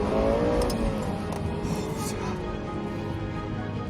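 A Lexus LFA engine revs with a loud, rising tonal whine that settles into a sustained, dense mechanical roar heard nearby.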